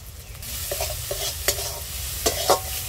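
Grated ginger and spices frying in a pan, a constant close sizzle broken by a few scraping strokes of a spatula, with no voices.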